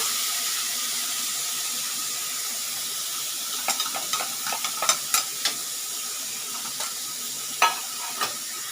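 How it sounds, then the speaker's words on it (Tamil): Green chilies and onions sautéing in a pan, a steady soft sizzle with scattered sharper clicks and scrapes of stirring in the latter half, close and moderately quiet. "இது கொஞ்சம் வதங்கி வருதுங்க"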